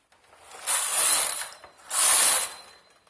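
A knitting machine carriage slides across the needle bed twice while knitting a jali pattern, each pass a loud, hissing, ratcheting sweep lasting under a second, with a short quiet gap between them.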